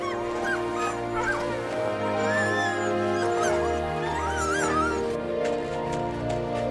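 Greenland sled dogs at rest after a run, whimpering, yipping and barking eagerly in a continuous, fairly close chorus of overlapping voices.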